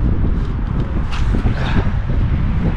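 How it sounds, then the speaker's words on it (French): Gusty outdoor wind buffets the microphone at a track where a Tamiya MF01X radio-controlled car is run, making a continuous loud rushing rumble that lasts the whole moment, with no talk. "il y a du vent"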